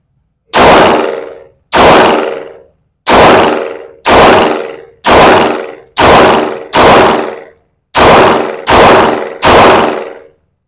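A Sarsilmaz Kilinc 2000 Light pistol fires nine sharp, loud shots at a range, each with a short ringing decay, spaced roughly a second apart with a brief gap before the last three.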